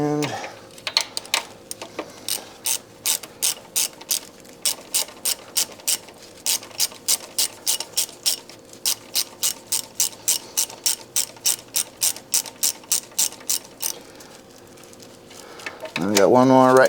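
Ratchet wrench cranking a bolt near the motor mount on a Honda engine during VVT filter replacement, a long run of rapid, evenly spaced clicks close up, pausing briefly, then resuming, with a short rougher burst at the end.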